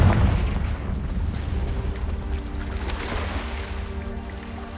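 The Confringo explosive spell in Hogwarts Legacy goes off in a deep, loud booming blast at the start, followed by a long rumbling, crackling decay that slowly fades away.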